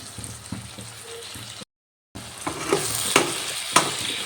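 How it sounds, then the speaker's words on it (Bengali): Boiled potatoes and flat beans are stirred in a pan, giving a soft sizzle with scraping and clinks that grow busier after a brief dead-silent gap. "এবার একটু ভালো করে নাড়াচাড়া করে নিলাম"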